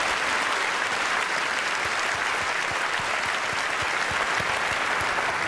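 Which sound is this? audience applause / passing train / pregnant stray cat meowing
audience applause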